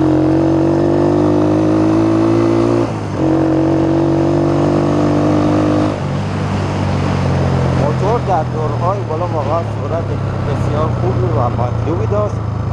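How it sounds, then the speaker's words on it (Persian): Pishtaz 125cc motorcycle revving loud and close, engine note climbing through gear changes as it accelerates toward high speed, with wind rush and a voice talking over it. "حالا یک سرعت بسیار زیاد میگیریم تا یک تستی از شتاب کلی موتور بگیریم"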